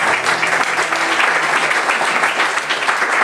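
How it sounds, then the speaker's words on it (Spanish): Audience applause for a pasillo song at a live event in Guayaquil's Julio Jaramillo Museum, dense steady clapping filling the room with a faint voice murmuring underneath. "Un aplauso para el pasillo."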